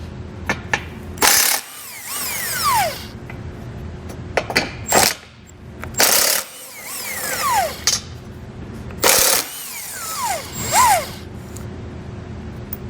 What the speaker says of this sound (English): along our bumper beam here at the ends, we're going to have 3 15mm nuts that we need to remove